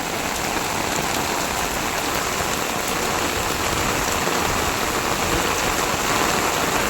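Heavy rain pours down in a sudden downpour that fills the drains, a dense, loud, unbroken hiss of drops on surfaces that holds steady throughout with no voices.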